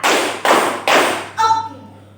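Students in a classroom clapping game clap three loud, sharp, evenly spaced claps, each ending in a short ring, with no talk.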